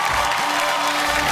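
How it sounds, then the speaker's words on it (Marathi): A studio audience at a Marathi television game show breaks into steady, dense applause that fills the whole moment, loud and continuous with no voices over it. "आपल्या पुढच्या खेळामध्ये एकदा जोरदार टाळ्या होऊन जाऊ दे."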